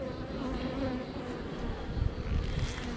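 Honey bees swarm at an open beehive during a summer inspection, their dense, steady buzzing close and continuous throughout, with a few brief handling knocks near the end.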